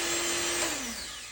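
An electric mixer runs nearby for mixing akara batter, giving a loud, continuous motor whine whose pitch slides slowly downward as it works.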